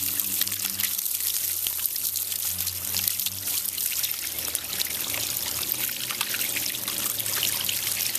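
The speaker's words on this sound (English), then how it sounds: "She is getting a drink from the waterfall." Water trickling and pouring steadily from a waterfall in the animated series Dinosaur Island, a continuous close splashing stream under a low tonal background.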